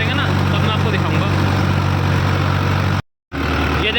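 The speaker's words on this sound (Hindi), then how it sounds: "ये देखो जी दूसरी बार में ट्रैक्टर कितने RPM ड्रॉप कर रहा, 1600 RPM है।" A 60 HP tractor engine labors while pulling an 8-foot rotavator through a field, a steady, heavy low drone that cuts out briefly near the end and then resumes, with someone talking over it.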